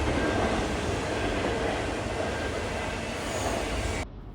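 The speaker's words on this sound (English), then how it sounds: "This train, NS 278, comes all the way from Kansas City, Missouri, and goes to Norfolk, Virginia with single and double stacks" Norfolk Southern freight NS 278, a stack train hauling single and double stacked containers, rolls past close by with a steady loud rumble and wheel clatter for about four seconds before the sound cuts off.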